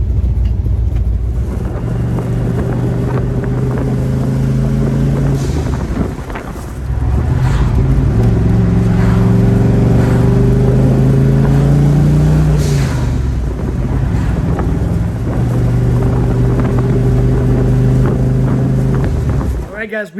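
A turbocharged Ford Mustang engine drones steadily with low rumbling tones that rise and fall through gear changes, with wind noise buffeting the microphone throughout.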